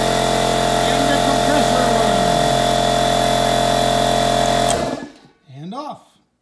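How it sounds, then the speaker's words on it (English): An air compressor switched by a 12-volt DC relay box runs with a loud, steady motor drone, then cuts off abruptly and spins down, leaving a short trailing whine. "compressor on. And off."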